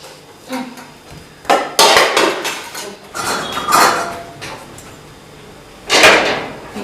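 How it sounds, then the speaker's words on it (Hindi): A metal kadhai set down on a kitchen stove, several clanking metallic knocks and scrapes of cookware at close range, with a couple of louder bangs standing out against quiet kitchen background. "तो एक कढ़ाई और रख लेती हूँ मैं"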